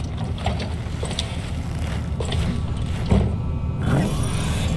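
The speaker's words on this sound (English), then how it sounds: "I'll keep the engine running" A boat engine idles in Cyberpunk 2077, a steady low mechanical rumble with faint rattling and clanks running throughout at even loudness, no voices.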